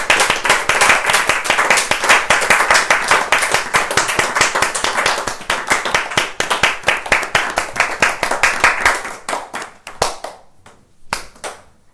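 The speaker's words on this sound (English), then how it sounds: "So we clap after every chapter" A small audience claps together after a Srimad-Bhagavatam chapter reading, brisk rhythmic hand claps that go on steadily, then thin out into a few scattered final claps and stop.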